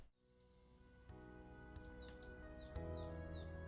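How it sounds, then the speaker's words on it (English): Morning birds chirp in the game Ace Academy, bright quick tweets repeating in clusters over a soft steady background hum, fairly quiet with no talking. "The soft chirping of birds gradually awakens me from my slumber"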